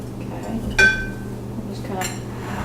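Apples are set into an 8-ounce pie crust in a pie pan, giving two short, close clinks and knocks against the dish over a quiet room tone.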